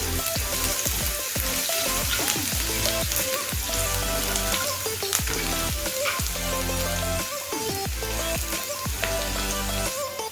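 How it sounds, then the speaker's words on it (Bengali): Four to five thinly sliced garlic cloves fry in oil with a dense, steady sizzle that continues without break, mixed with tonal background music. "রসুনটাকে সামান্য একটুখানি ভেজে নেব।"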